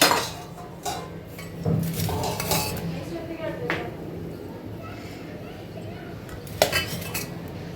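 Metal cutlery scraping and clinking against a plate as rice and fried food with onion greens are served out, with scattered clinks and knocks close by while a voice talks underneath.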